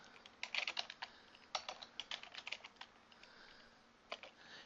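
Code is typed on a computer keyboard for web design work, with clusters of quick, close, crisp key clicks coming in uneven bursts and short pauses and no talk.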